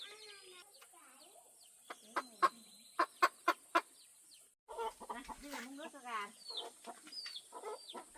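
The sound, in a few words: chickens clucking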